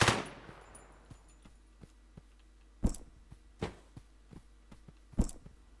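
Scattered gunshots in the One Armed Robber online multiplayer game during a jewellery store and bank robbery: several sharp, fairly distant cracks with three louder shots standing out against a quiet background.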